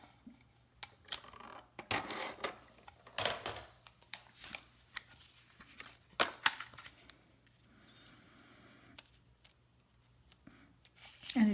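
A tape runner rolls adhesive onto a paper card in short, quiet clicks and rasps, with light handling and tapping of paper between strokes, close and faint.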